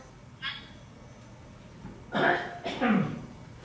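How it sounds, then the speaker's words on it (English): One person sneezes during an online meeting, a short faint burst followed by two louder, fuller bursts a moment later, over low background hiss. "Oh, it's only you that sneezed."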